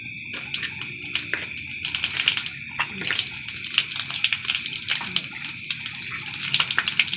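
Water runs and splashes steadily from a tap while hands are washed during ritual ablution, a continuous close gushing stream with small shifts as hands move through it.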